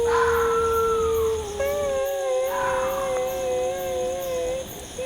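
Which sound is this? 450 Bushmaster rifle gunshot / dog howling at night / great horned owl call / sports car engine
dog howling at night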